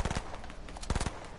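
Burst rifle firing in Fortnite, with clusters of three or four sharp shots repeating in quick succession over a second and a half, close and punchy, with no speech.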